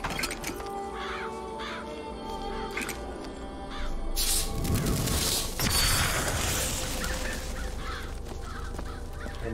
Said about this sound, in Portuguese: Perde o botão direito para invocar corvo assassino